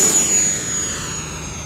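An E-flite Viper 70mm electric ducted-fan model jet passes overhead with a loud whooshing fan roar and a high whine, fading gradually as it moves away.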